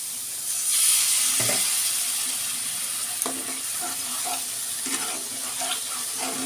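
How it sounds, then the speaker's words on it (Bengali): A little water is poured into red chilli and Kashmiri chilli powder spices in a pan, producing a loud, steady sizzling hiss with a brief splash and occasional spoon scrapes. "অল্প একটু জল দিই"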